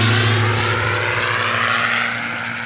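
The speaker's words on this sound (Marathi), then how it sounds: "अशा प्रकारे तुम्हाला सांगतो विमान येते ते" A propeller airplane taking off, a loud, steady engine roar with a low throbbing hum that slowly fades as it pulls away, heard alone with no talking.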